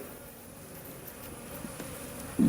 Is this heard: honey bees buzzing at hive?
yes